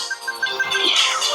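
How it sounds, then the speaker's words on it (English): A phone ringtone sounds close by, with short repeated electronic tones that chime in a quick, regular pattern over a brief stretch. "I forgot to put my phone on silent."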